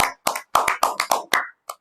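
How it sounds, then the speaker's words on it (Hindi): Hand claps for the third-prize winner at an online public speaking competition's result announcement: about nine sharp, close claps in an uneven, loose rhythm with short gaps, from what sounds like only one or a few people, ending after a final clap. "तो जोरदार तालियां हो जाए प्रियांशु दानी Congratulations, के लिए."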